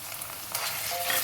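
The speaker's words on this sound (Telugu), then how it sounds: "ఇప్పుడు మన రొయ్యలు ఉల్లిపాయలు కొంచెం వేగినాయి." Dried prawns and chopped onions fry in oil in a pan, giving a steady, close sizzle that holds evenly through a brief moment with no voices.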